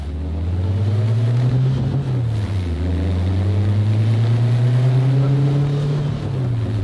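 Air-cooled engine of a 1970 Volkswagen Beetle convertible pulling through the gears on a sunny drive, its drone rising in pitch, dipping at a shift, then climbing again, loud and close with wind noise.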